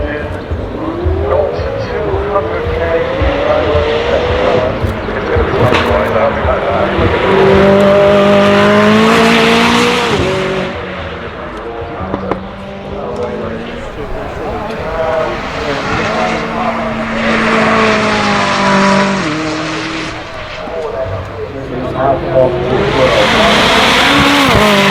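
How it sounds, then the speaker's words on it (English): A McLaren 600LT GTR race car launches and accelerates up a home straight, its engine climbing and falling through gear changes, loud and close, while a commentator talks over it. "a McLaren 600LT GTR that was launched at the members now running up the home straight"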